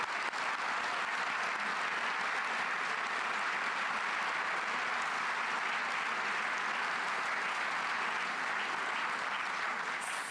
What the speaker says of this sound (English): A round of applause for all of our candidates tonight